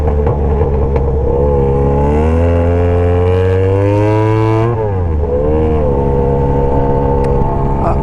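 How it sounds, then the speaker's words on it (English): A café racer motorcycle ridden on the street, its engine loud and near, revving up in a rising drone, dropping off, then settling into a steady rumble. "Wow, this bike is super loud."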